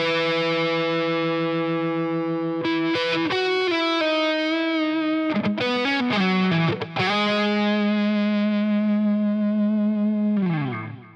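Distorted electric guitar solo played through effects, sustained bending notes and fast runs with echoing, chorus-tinged tone, loud and continuous without any voice.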